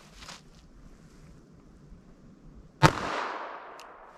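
A single sharp shot from a .32 ACP pistol loaded with Buffalo Bore hard cast ammunition, fired into ballistic gel outdoors; a loud crack breaks a quiet, breezy background and trails off into a rumbling echo.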